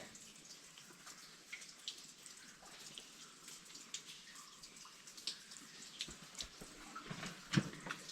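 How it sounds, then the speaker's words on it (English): Water dripping inside a large open slate mine cavern in North Wales, scattered faint drops and splashes echoing over a low hushed background of trickling water. "the dripping of water is simply magical."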